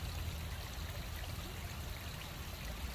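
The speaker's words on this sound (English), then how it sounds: "let this run for a minute and shut up and let you listen to the waterfall" A backyard pond waterfall runs steadily, a faint continuous wash of falling and trickling water with no voices.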